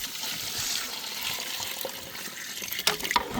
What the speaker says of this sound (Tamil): நம்ம தண்ணி சென்னை பிரியாணிக்கு தண்ணியை சேர்த்துக்கிறேன்